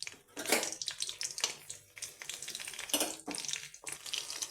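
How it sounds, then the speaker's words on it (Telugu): Garlic cloves and dried red chillies sizzle in hot oil in a pan, with bursts of crackling and spitting that rise and fall alongside occasional stirring noises, fairly quiet and without talk. "ఇలా ఆయిల్ వీటెక్కాక ఎల్లుల్లిపాయలు వేసుకుందాం."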